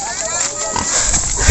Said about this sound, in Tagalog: itong mga baboy ko na fatteners